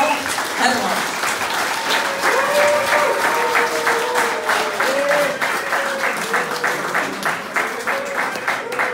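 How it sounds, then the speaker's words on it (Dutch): Warm applause rolls through a retirement party, sustained clapping from a gathered crowd at a fairly loud, even level, with voices and cheering calls rising over it. "geef ze het warm applaus"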